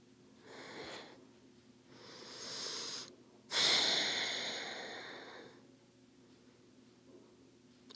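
Slow, deep breaths in a hip-opening yoga pose, a few long airy inhales and exhales close to the microphone with quiet pauses between them.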